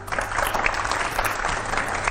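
A crowd applauds at a spiritual discourse on Hanuman and Rama, dense and steady clapping that fills the space evenly throughout with no break.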